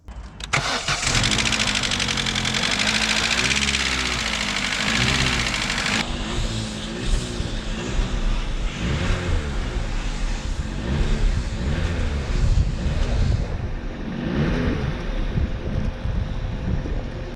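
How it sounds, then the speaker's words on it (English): A 2005 Vauxhall Astra H, a Mark V Astra, cranks and starts, then idles loudly and close by with a rough, busy mechanical clatter from its rattling timing chain. No one talks over it. "the chain is rattling like a bitch"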